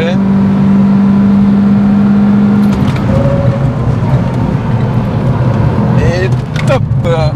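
A Renault Twingo RS at full throttle, its engine roaring loud and close with a rising rev, then a gear change and renewed acceleration, while occupants talk in French over the noise.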